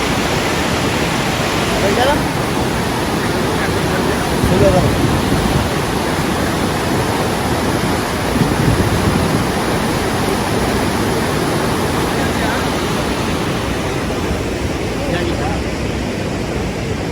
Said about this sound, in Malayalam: അവിടെ ഉള്ളിൽ നിന്ന് ഒരു വെള്ളം താഴത്തേക്ക് ചാടണം